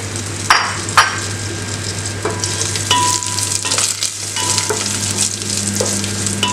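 Crushed dried red chilli frying in oil in a pan over a low flame, giving a steady close sizzle with a few sharper crackles and stirring scrapes, no voices.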